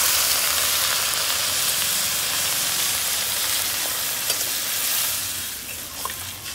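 Water poured into a hot pan of frying capsicum and onion, giving a loud, steady sizzle and hiss that fades slightly toward the end, with a few faint clicks.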